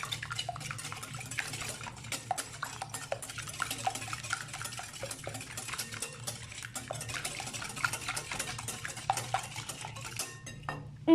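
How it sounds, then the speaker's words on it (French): A whisk beats eggs for crêpe batter, clicking and scraping quickly and steadily against a bowl. The sound is close and continues the whole time, with no talking. "il nous faut un fouet. Alors on mélange."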